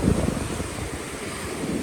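Surf washing onto a Filipino beach strewn with trash and brown water, a steady broadband rush of waves mixed with wind noise on the microphone, no talking.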